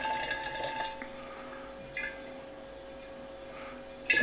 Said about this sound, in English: I'm going to pour it into the demijohn to sterilise the demijohn